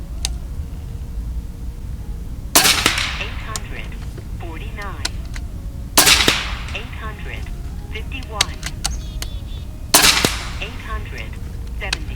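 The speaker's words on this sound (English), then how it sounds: "we're shooting the H&N slugs, sizing 218, 21 grain" Three sharp reports from a JSAR Hawk air rifle firing 21-grain H&N slugs sized .218, spaced about three to four seconds apart, each a loud crack with a brief ringing tail over steady outdoor background noise.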